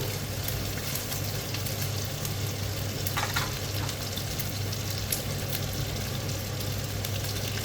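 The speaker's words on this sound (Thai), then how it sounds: "เราก็คั่วไปกลางๆนะคะคั่วไปเรื่อยๆจนฝาเขาจะแห้งสี" Salted chicken being stir-fried in a pan, a steady close sizzle and crackle running the whole way with faint scraping stirs now and then over a low constant hum.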